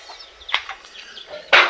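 Laying hens on a small backyard farm cluck in short, scattered calls, ending with a sudden louder, flustered burst close by.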